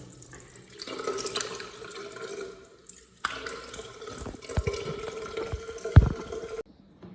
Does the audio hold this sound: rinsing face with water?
yes